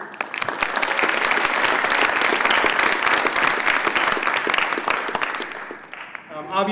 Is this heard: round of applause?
yes